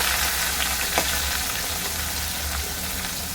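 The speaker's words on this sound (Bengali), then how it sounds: "তেল গরম হয়ে গেছে এবার ডাটা আর আলু দিয়ে দিলাম" Vegetable stalks and potatoes frying in hot refined oil in a pan, a dense, continuous sizzle and crackle close by with a faint low hum underneath, no talking.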